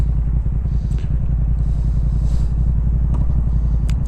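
Motorcycles riding past on a road, a steady close engine drone and rumble with light clatter, no talk.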